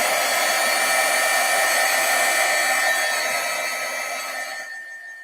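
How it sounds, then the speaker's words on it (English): A heat embossing tool blows steadily while drying a freshly stamped paper Christmas craft tag, a loud continuous hot-air whoosh with no talk that fades slightly as it is switched off near the end. "Let me take the heat tool to him so I can see."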